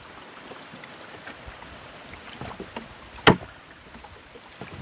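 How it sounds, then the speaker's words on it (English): A rowboat is rowed against a headwind on a river arm, with faint, rhythmic oar splashes and water swishing over soft wind noise and one sharp knock partway through, and no talking. "I'm actually rowing against a bit of a headwind."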